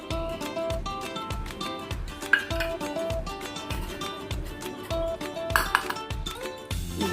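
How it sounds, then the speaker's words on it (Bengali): Green chillies being ground on a stone slab with a stone roller, a steady rhythmic scraping and knocking at close range, repeating about twice per second. "এটাকে ভালো মতো করে পাটাতে আমরা বেটে নেব।"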